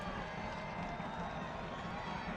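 A soccer stadium crowd at a Richmond Kickers versus Charlotte Independence match sends up a dense, continuous roar of applause and cheering. It stays loud and unbroken, with a voice faintly underneath.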